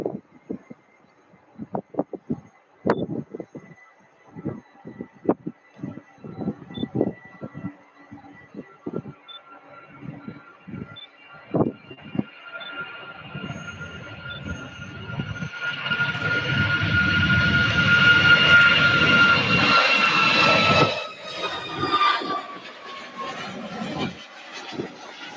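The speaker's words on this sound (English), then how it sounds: "Here's our 737 MAX 8 Houston Hobby." A Boeing 737 MAX 8 bound for Houston Hobby builds from faint to a loud rushing engine roar that peaks and then eases, with scattered clicks and knocks nearby early on.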